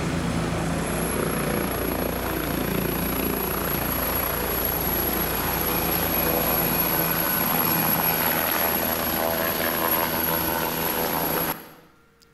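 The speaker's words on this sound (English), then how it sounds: "Maybe let's even have a helicopter there." Helicopter rotor and engine noise at a staged multi-vehicle crash scene for a trauma simulation, a loud, steady thudding drone that fills the scene alone, then cuts off abruptly at the end.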